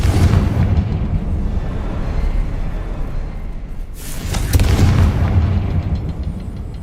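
A Confringo fire spell explodes in the video game Hogwarts Legacy: a loud, rumbling blast swells in the middle of continuous dense game noise, then fades back into a heavy roar.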